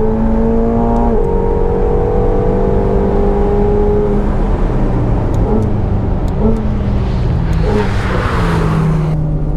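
A McLaren 750S runs hard around the Estoril circuit, its engine loud and steady from the cabin, with pitch climbing and falling through repeated gear changes and throttle lifts into a corner.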